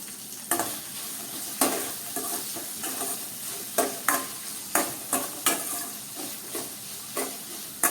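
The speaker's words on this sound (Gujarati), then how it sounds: "મરચાંને તેલમાં નાખ્યા પછી થોડા હલાવી અને આપણે હવે મીઠું એડ કરી દઈએ" Chillies and salt frying in hot oil with a steady, bright sizzle while a spoon stirs and scrapes the pan in regular knocks, close and clear, with no talking.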